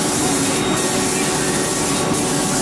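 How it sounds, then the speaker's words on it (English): A spray gun hisses continuously at close range, applying a final layer of wax to Goodyear welted shoes in a workshop, loud and steady throughout. "apply a final layer of wax, which gets put on in a spray gun fashion"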